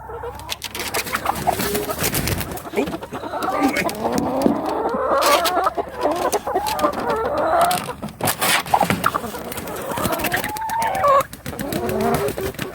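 Chickens cluck and squawk continuously at close range, several birds overlapping in a busy, uneven chatter with scratchy rustling underneath.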